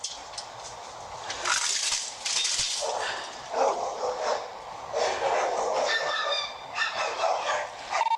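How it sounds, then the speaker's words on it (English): Several dogs bark, yip and snarl during a mauling attack in a backyard, a frantic, fairly close chorus of overlapping barks and whimpers with noise and no clear talk. "the dogs are mauling the body"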